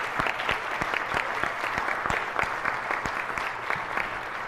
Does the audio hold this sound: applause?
yes